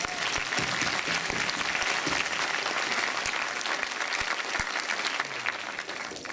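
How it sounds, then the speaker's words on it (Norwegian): Steady, enthusiastic applause from a large crowd at a school band's autumn concert fills the whole stretch, clapping dense and continuous before easing slightly at the end. "En ekstra applaus til de."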